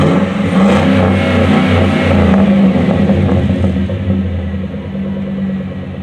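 Chevy Silverado 1500 pickup fitted with a Cherry Bomb Vortex muffler, its engine revved loud and close in a steady rumbling burst that swells and then eases slightly, with no talking over it.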